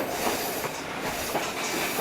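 Train rolling on rails during a Yukon excursion, a steady rumble of wheels with soft rhythmic clacks, moderately close and uninterrupted by voices.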